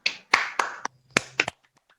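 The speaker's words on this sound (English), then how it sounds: "give applause for Putri and Tiara" A handful of separate handclaps in a company financial meeting, given after a presentation. The claps are sharp and spaced out, about six in two seconds, close by and alone with no talk.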